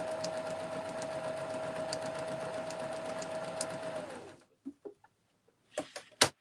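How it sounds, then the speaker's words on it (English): A sewing machine stitches fabric for a screen-printed gift bag, its fast even whirr running steadily and close for about four seconds, then stopping, followed by a few soft clicks and handling knocks. "and then just sew again to the other side"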